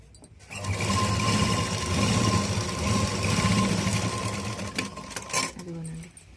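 A sewing machine stitches the Y-neck neckline of a school uniform, running in a steady close whir that briefly stops and restarts in short bursts near the end.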